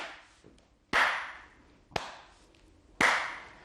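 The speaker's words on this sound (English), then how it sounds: "And we're just going to do a tap and clap." A seated chair exercise of alternating taps and claps: sharp hand claps and lighter taps in a slow, even rhythm, about four distinct hits, close and clear with no voices.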